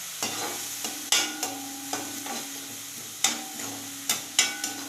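Vegetables for a broccoli gravy saute in oil in a pan, with a soft background sizzle broken by a series of sharp spoon scrapes and clinks at an irregular pace.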